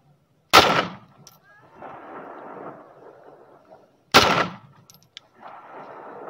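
A Pakistani-made Zigana Sport 9mm pistol being test fired outdoors, two sharp, loud shots several seconds apart, each followed by a rolling echo that fades away.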